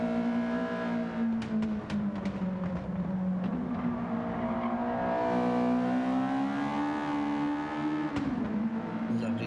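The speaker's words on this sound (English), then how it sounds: "Lovely sounding car that." Sustained droning engine note of a Falcon Toyota GT Apex Sprinter race car at an Atlanta race, pitch rising and falling through gear changes and revs, heard close and steady without talk.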